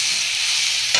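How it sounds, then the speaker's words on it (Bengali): Cumin and coriander powder sautéing in a little oil in a pan for a pomfret fish curry, giving a steady bright sizzle with stirring throughout and a brief scrape near the end, no voices. "এখানে জিরে ধনে গুঁড়ো দিয়ে আমি এটা কষিয়ে নেব অল্প তেলে"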